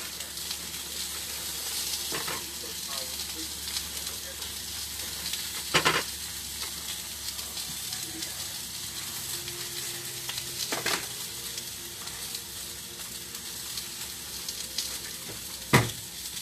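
Sliced apples frying in a pot give a soft, continuous sizzle and hiss, broken by a few sharp clinks and scrapes of stirring, with no talk.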